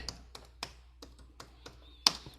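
Light taps on a computer keyboard come as a sparse series of single keystrokes, close and quiet, with a faint electronic whine near the end.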